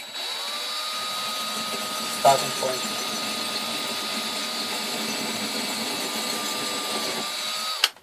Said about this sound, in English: Let's just try drilling this.